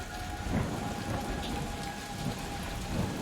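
Steady, dense rain pours down in the Guardians of the Galaxy video game, a constant hiss with low rumbling beneath it, continuing evenly without a break.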